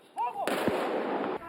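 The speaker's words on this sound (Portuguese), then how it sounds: "mais honras militares. Salva de tiros." A military gun salute volley fired at the close of a memorial ceremony for the Chapecoense victims, one sharp loud burst followed by a sustained, reverberant rumble that fades after about a second.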